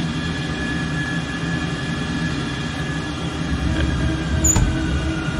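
An F-14 Tomcat's jet engine in a flight simulator game, a steady droning whine with a low rumble that winds down in a stall, with a faint high tone near the end.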